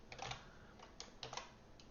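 Fingers type on a computer keyboard, giving quiet, irregular clusters of key clicks that come in short bursts, close and alone with no talking.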